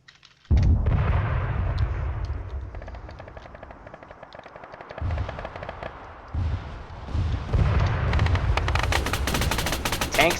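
In an Arma 3 battle, a tank fires on Pawnee helicopters, heavy cannon and machine gun bursts mixing with rotor thrum and explosions. The roar builds in loud waves and ends in intense sustained gunfire.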